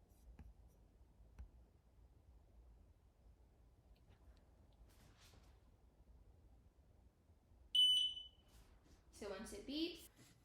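An xTool laser engraver sounds a single short, clear electronic beep partway through an otherwise quiet stretch, with faint handling noises before it and soft talking right after.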